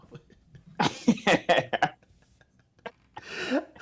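A person coughs in a harsh cluster of hacks up close, followed by a quieter pause and another rough cough.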